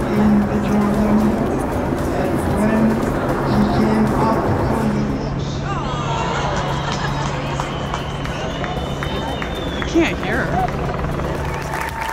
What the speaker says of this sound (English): Lots of helicopters.